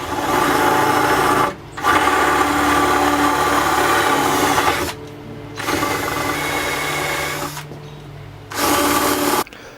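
A power drill whines steadily while boring a 3/8-inch hole in a carbon foil mast, running in several long bursts separated by brief pauses, loud and close.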